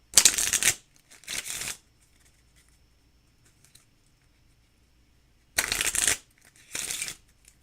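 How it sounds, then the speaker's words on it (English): A deck of playing cards is shuffled twice: two quick riffle bursts, each a pair of crisp fluttering rushes, separated by a few seconds of near silence with faint handling taps. "So we'll give the deck a shuffle. We'll give it another shuffle."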